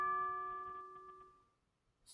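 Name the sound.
Samsung phone ringtone "single doorbell"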